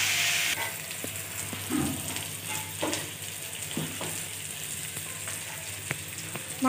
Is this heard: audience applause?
no